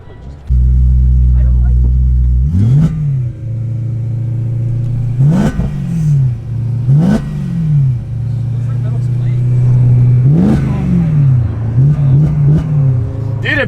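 A car engine idles loudly nearby, punctuated by a series of quick throttle blips that rev up sharply and settle back down, with people talking.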